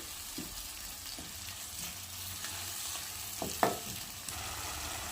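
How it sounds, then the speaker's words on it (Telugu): Yogurt frying gently in a pan on low flame, a soft steady sizzle with a few spoon scrapes and one sharper clink, close but quiet. "సిమ్లో పెట్టుకుని ఫ్రై చేసుకోవాలండి"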